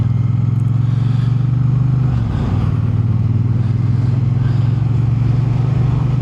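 A 2024 Triumph Bonneville T120 cruises on a winter road, its engine a steady, loud drone close by with a brief dip in pitch midway, like a shift or throttle change, and no talking.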